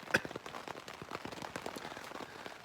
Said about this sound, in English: Still raining out.